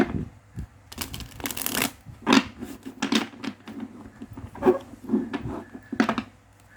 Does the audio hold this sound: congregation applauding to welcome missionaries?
no